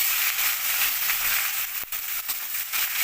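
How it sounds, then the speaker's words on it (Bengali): Chopped onions dropped into hot oil already holding whole garam masala, cumin and bay leaves for a chicken curry give a loud, steady sizzle and crackle throughout, with one sharp pop near the middle. "এবার দিয়ে দেবো কেটে রাখা পেঁয়াজ"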